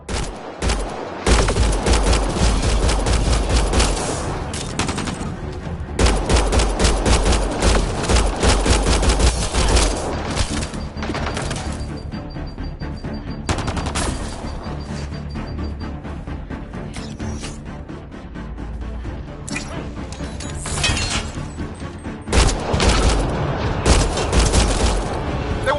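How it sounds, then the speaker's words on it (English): Video game gunfire played on a PS4 roars in long, heavy bursts of rapid shots and booms, with brief lulls between volleys, loud and close throughout. "They shot him!"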